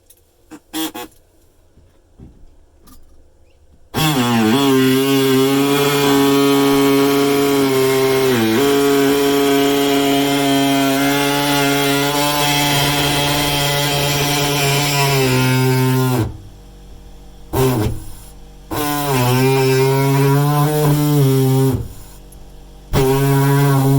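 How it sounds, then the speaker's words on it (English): Reciprocating saw cutting along a marked line through the wall of a van during a window installation in a van conversion: a loud, steady buzzing drone starts after a quiet opening, runs continuously, then stops and restarts in short bursts near the end. "we're just going to use our reciprocating saw, and we're going to just go right up on here and follow our line"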